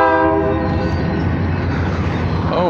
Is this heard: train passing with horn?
yes